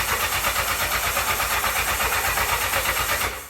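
A 1984 Honda CB700SC Nighthawk motorcycle that has just had a carb clean cranks without catching, running on old gas: a steady, loud, rhythmic starter-motor churn for about three seconds that stops abruptly, with no engine firing.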